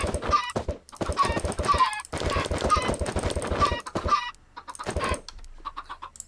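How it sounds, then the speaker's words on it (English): Minecraft chickens cluck loudly and repeatedly in quick, choppy bursts with brief pauses between them, close and clear with no talking. "So we got some chickens in there."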